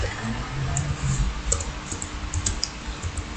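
Rapid clicking of keys on a computer keyboard, a quick uneven run of close, crisp taps over a low steady background hum.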